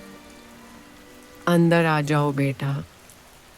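Steady rain hisses softly throughout a horror story scene, and a voice speaks briefly over the constant patter.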